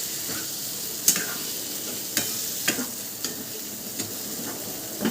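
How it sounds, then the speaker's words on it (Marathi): Food is stirred and mixed in a pan while it sizzles: a steady frying hiss with a few sharp scraping clacks of the spoon against the pan at irregular intervals, close and clear. "आता आपण त्याला छान असं मिक्स करून घेऊ"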